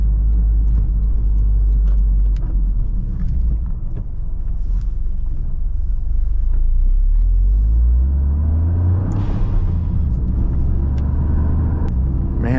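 Toyota GR Corolla driving on quiet back roads, a steady low engine and road rumble with wind buffeting, the engine note rising in pitch as it accelerates toward the end, close and loud with no talk.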